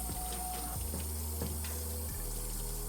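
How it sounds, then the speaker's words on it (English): Running water pours from a tap as a 2001 Jordan 11 Low sneaker is dunked and rinsed, a steady close splash and gush with a low hum underneath and brief shifts as the shoe moves. "Just dunk the shoe, rinse it, make sure there's no solution left in it"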